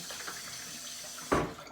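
Water runs weakly from a tap in a house, a faint steady trickle that ends in a short louder splash near the end.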